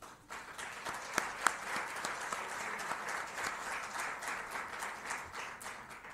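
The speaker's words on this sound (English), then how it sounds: "Let us welcome our speakers with a round of applause." A conference audience at an IMF trade event applauds to welcome speakers, a steady, fairly soft wash of clapping with a few sharper claps standing out, continuing evenly throughout.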